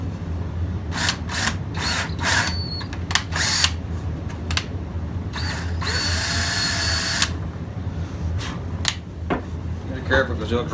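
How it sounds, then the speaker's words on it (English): A power drill with new bits bores into wood for a tomahawk display stand, giving repeated short bursts of whirring alongside one longer sustained run, all sitting over steady background noise with talking in between. "When you drill it, you want to make sure you got to remember that screw's got to go up in."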